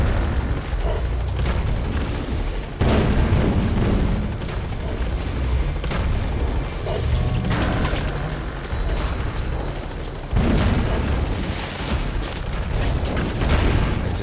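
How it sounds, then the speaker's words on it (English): A helicopter in the video game Metal Gear Solid V comes in to land, its heavy rotor roar and thumping wash filling the scene loudly and continuously, with deep booms and rumbles mixed in. "All right, the chopper's touching down."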